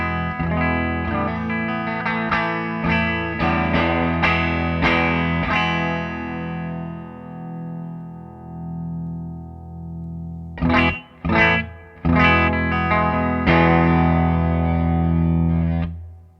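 Electric guitar on the split-pickup setting played straight into an amp with no pedal, clean and dry: a run of picked notes and ringing chords, then a pause and a few more strums that sustain to the end, with no talking.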